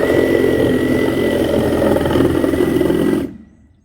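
A cordless Sawzall reciprocating saw run on an oversized 8.0 battery, a loud, steady, buzzing motor drone that holds for about three seconds and then cuts off abruptly.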